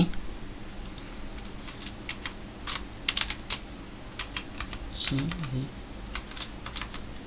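Keyboard typing in quick irregular bursts of clicks, fairly close, while entering a name in the Cabal M mobile game, over a low background hum.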